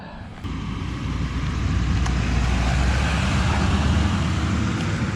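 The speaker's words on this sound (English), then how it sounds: "I think I hear a vehicle coming" A road vehicle rumbles steadily close by, a broad continuous roar that swells slightly and holds for several seconds, with no voices.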